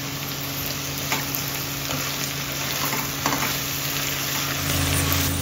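Ginger garlic paste frying in a pan for a broad bean biryani, giving a loud, continuous sizzle with a scraping stir running through it.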